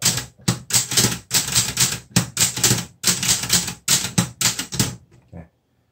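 A Clover Top Star 10S two-set Korean Hangul typewriter typed on in quick bursts of sharp, close key strikes with brief pauses between clusters, ending in silence; no talking.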